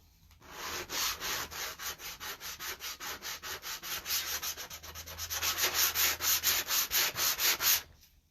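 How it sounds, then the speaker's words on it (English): Rhythmic back-and-forth sanding of dried Mod Podge on a Dollar Tree heart, steady close scratchy strokes, roughly two per second, alone with no talking, growing slightly stronger toward the end before stopping. "I'm sanding Mod Podge."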